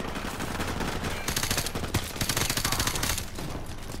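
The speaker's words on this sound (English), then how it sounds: "And then there was a firefight!" Rapid automatic gunfire in Call of Duty: Modern Warfare Remastered, a dense, loud burst of shots crackling through most of the stretch with no talk over it.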